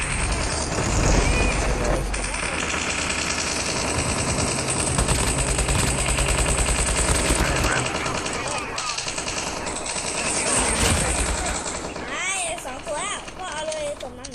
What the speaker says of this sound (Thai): ภูมิยิงยิงเลยยิงเลย